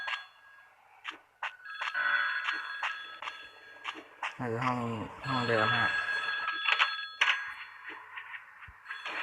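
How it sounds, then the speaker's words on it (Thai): An in-game telephone rings repeatedly in the horror game Bear Haven, a bright metallic bell pattern in bursts, with someone talking over and between the rings. "โทรศัพท์ห้องไหนอีกเนี่ย"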